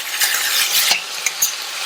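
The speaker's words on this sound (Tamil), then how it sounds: "இந்த காய் மீடியம் ஃப்ளேம்லயே எண்ணெயிலேயே நல்லா வதங்கட்டும்." Okra sautéing in oil over a medium flame, a steady close sizzle with sharp stirring scrapes and clicks of a utensil against the pan, no voices.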